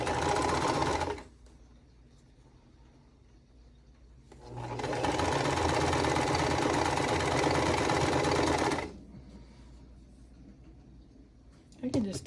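A sewing machine stitches quilt block pieces together in two steady, loud, whirring runs, the second lasting several seconds, with a voice speaking in the quieter gaps.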